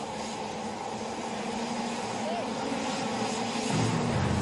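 A Bugatti Veyron launches at full throttle in a drag race against an aircraft, heard as a steady, loud engine roar that swells near the end, with someone talking over it.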